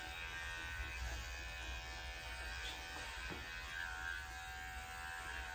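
Electric clippers buzz steadily while grooming a senior dog with special needs, a constant near hum at low volume with slight changes in pitch as the blades skim along the dog's sides and thigh.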